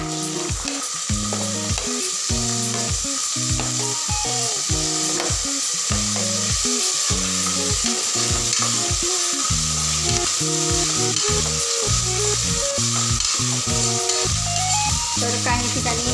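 Tomatoes and peas fry in a pan with a steady, loud sizzle, overlaid by rhythmic stirring and scraping strokes throughout, with no talking.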